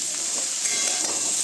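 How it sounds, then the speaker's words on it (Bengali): Cauliflower and potatoes fry together in a pan with little oil, giving a continuous close hissing sizzle with light stirring and no voices. "তো এখন দিয়ে দিই আলুটা, ফুলকপি আর আলু একসাথেই ভাজা হয়ে যাবে।"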